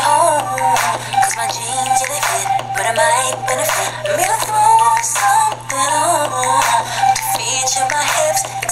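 FLAC music played through the built-in speakers of a Samsung YP-S5 player, a steady, full mix with rhythmic beats and melody, fairly loud and continuous with no talking.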